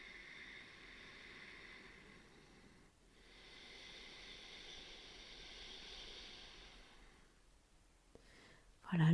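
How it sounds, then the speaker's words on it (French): A soft ujjayi breath flows out through the nose as a long, hushed, ocean-like exhale. It fades around the midpoint, then continues more faintly, and ends with a brief louder rustle. "Expire par le nez."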